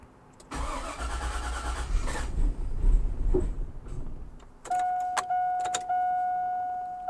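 First start of a rebuilt LS V8 engine with no coolant and an overfilled oil sump: a loud starter crank and rough catch, a sputter and stall, then short bursts of cranking with a thin electronic tone.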